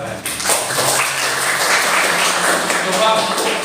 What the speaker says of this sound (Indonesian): Tepuk tangan sekalian.